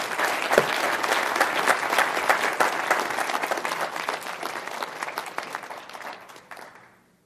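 After a keynote presentation at a conference, an audience gives loud, dense applause with crisp individual claps, holding steady for several seconds before tapering off to silence.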